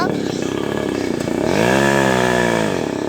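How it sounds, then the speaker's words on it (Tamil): A motorbike engine runs loudly close by, idling roughly and then rising into a sustained rev. A person talks over the engine. "வண்டி சவுண்டாக பலமாக இருக்குது."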